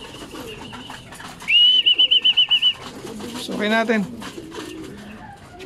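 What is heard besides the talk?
pigeons cooing and flapping wings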